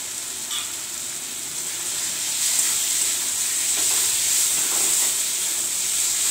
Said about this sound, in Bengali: আলুটা একটু ভাজবো,